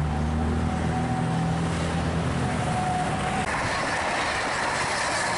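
A high-speed train at about 200 km/h rushes past between Tegalluar and Halim stations, a loud continuous roar with a rising and falling tone and rail rumble, with no voices.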